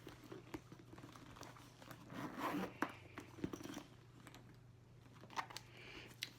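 Zipper on the lined compartment of a Louis Vuitton Epice Venus handbag being worked in short, faint scratchy pulls with light tapping and rustling in between, close and quiet.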